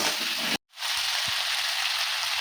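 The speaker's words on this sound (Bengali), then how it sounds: "ভালো করে মশলাটা দিয়ে কষিয়ে নেব।" Spices with salt and turmeric sizzle steadily in hot oil while being sautéed for a banana flower curry, a continuous frying hiss broken by one brief gap.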